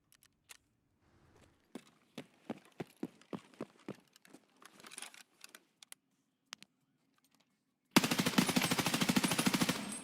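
Rapid machine gun fire in Escape from Tarkov from a 41 Ergo loaded with a 100-round magazine: scattered single shots and short bursts, then a loud sustained automatic burst at the end.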